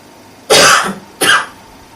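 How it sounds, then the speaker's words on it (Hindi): A man coughs twice, loud and close, a longer hacking burst followed by a shorter one, with no talking. "अभी खांस थोड़ी रहा हूं मैं"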